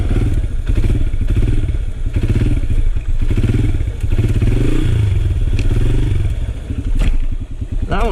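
Motorcycle engine running steadily and loud through a wheelie, with clattering and thudding as the front wheel drops back down under rear braking, and a brief louder burst near the end.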